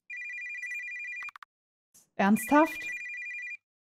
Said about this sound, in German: Mein Telefon klingelt.